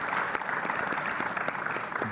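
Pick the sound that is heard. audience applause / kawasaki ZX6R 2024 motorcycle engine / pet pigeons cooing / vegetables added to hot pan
audience applause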